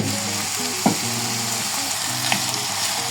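Chicken and mixed vegetables sautéing and being stirred in a pan for a creamy chicken soup, a continuous close sizzle with a couple of sharp scrape-clicks from the utensil.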